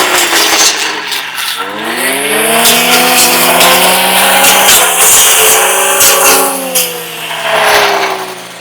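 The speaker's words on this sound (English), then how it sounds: "Before I do that, I'm gonna cut a branch with this." A STIHL trimmer fitted with a cutting blade roars loudly at close range, its high engine whine climbing in pitch and holding steady as it revs through a tree branch.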